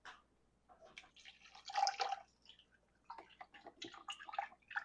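Chicken broth poured around a roast in a pan, with soft intermittent splashing and trickling that comes in uneven bursts, quiet and close with no talking.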